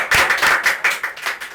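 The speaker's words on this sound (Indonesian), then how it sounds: "Tepuk tangan dong." A small audience claps at an Indonesian talk event for disaster survivors, a short burst of close, loud hand claps with several distinct bursts.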